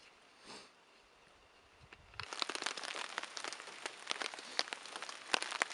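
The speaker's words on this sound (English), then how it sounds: "So as you can see, it's still raining." Rain falls steadily at a lakeside campsite in Algonquin Park, a close, dense patter of drops on surfaces after a quiet opening.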